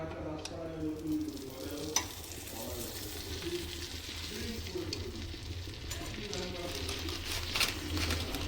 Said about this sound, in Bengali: তারপরে একটুখানি সেঁকে নেব পাউরুটিটা।